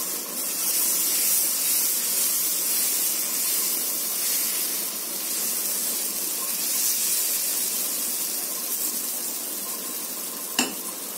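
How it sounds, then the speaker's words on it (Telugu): Onion pesarattu dosa batter sizzling on a hot pan, a steady dense hiss and crackle running loud and close throughout, with a single sharp tap near the end. "పెనం వేడెక్కిందండి, ఇప్పుడు మనం దోశ వేద్దాం"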